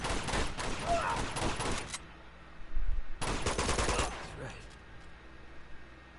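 Rapid automatic gunfire rattles in Uncharted 2: Among Thieves, two dense bursts of several seconds each separated by a short pause, loud and close, with someone talking briefly.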